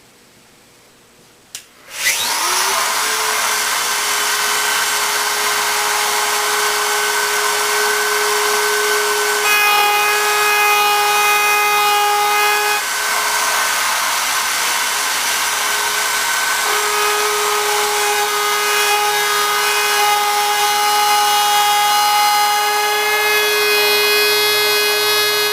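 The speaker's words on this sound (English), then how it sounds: "I've got the edges routed down so they're almost flush" A power router whines loudly and steadily after a sudden start, its pitch holding as it trims wood veneer edging on a desk for a long stretch.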